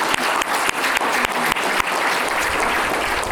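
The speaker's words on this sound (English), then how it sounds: "round of applause for Barb" Audience at an adult education graduation applauds steadily for a departing staff member, a dense, loud, continuous clapping from a large crowd with no voices.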